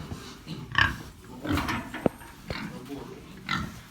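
Weaned piglets, just separated from two sows, grunt and oink in a pen during weighing, with short snorts and a sharp knock amid people talking nearby.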